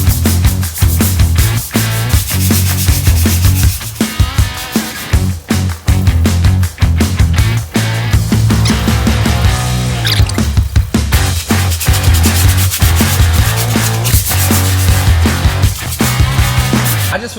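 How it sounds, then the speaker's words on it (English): Car brake calipers on a 2024 Mustang being sanded before painting: loud, dense, continuous scraping and grinding, close up and steady throughout with brief dips. "finished the first little session of sanding"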